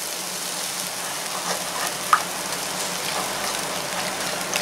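Batter for a snack is poured into a kadai over a very low flame and stirred continuously, producing a soft, steady sizzle with faint scraping. A single small click stands out above the even frying hiss.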